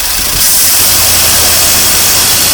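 Engine of a 1982 Chevrolet Corvette C3, left outside for a decade, rising into a loud, steady rev as the pedal is pushed, a hissy roar held for a couple of seconds.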